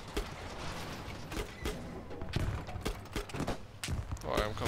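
Gunfire in the video game Battlefield V during a Breakthrough match near a Sturmtiger: sharp, repeated shots and bursts crack in quick succession, mixed with mechanical clatter and rattles.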